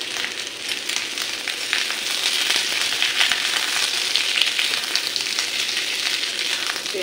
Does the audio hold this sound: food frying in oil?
yes